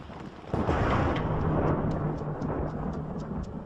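Thunder rumbles loud and sustained during a coastal storm, a heavy low roar that swells suddenly and then rolls on steadily for several seconds with no voices.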